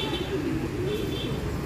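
Racing pigeons coo softly inside their loft, a low murmuring burble blended into steady background noise.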